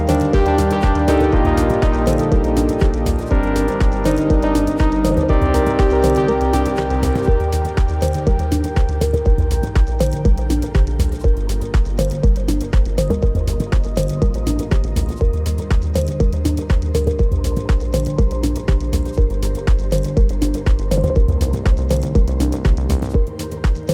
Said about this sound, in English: Sometimes I get pre-masters that sound like this, where essentially the 2 octaves are missing.